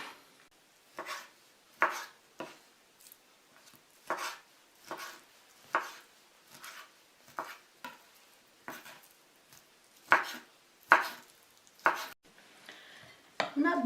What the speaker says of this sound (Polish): Pokroję je na takie niezbyt duże kawałki.